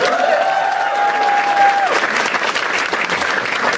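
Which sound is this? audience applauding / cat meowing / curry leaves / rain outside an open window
audience applauding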